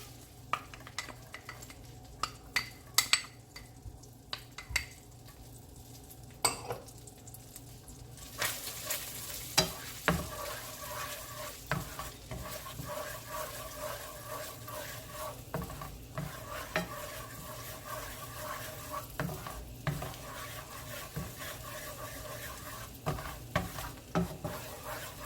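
Garlic stirred into a honey sauce in a pan, a quiet steady sizzle with scattered scraping and clinking of a utensil against the pan, no talk.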